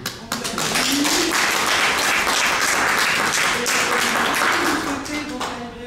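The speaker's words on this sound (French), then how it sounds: "On vous applaudit." An audience in a media library applauds after an author's talk, a dense burst of clapping that swells quickly, holds steady for several seconds and then thins out, with a voice briefly heard over it.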